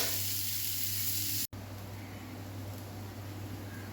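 Stuffed bitter gourd (karela) frying in a pan, a steady, faint hiss of sizzling oil that drops out for an instant midway and then resumes evenly.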